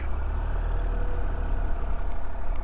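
A motorcycle engine held under light throttle with the clutch slipping during slalom practice, a steady close-up drone running continuously without a break.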